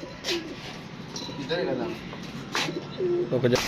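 Pigeons coo softly in several short, throaty calls spread across the clip, close by, with faint background noise and no clear speech.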